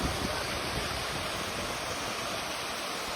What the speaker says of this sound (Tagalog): dito tayo sa waterfalls. Dito sa may Bulinaw. Dito sa Pangasinan